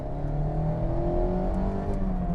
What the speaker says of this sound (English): when you rev it out, whereas it would sound like a bag of bolts before, it doesn't sound as bad